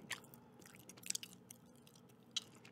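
Close, quiet gum chewing with soft wet clicks and occasional sharper smacks, in a hushed whispery setting with no talking.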